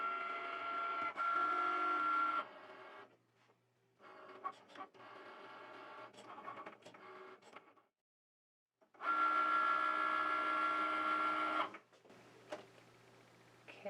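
A Cricut Maker cutting machine slicing infusible ink runs in bursts of whirring motor whine with a steady tone, pausing briefly between passes, close and moderately loud with no speech.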